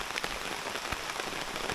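Heavy rain pouring down at a roadside camping spot, a dense steady patter of drops on surfaces with no break, moderately loud and close.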